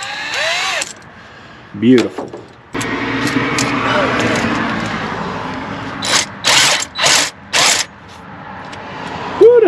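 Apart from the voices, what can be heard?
power drill used on a classic Ford F150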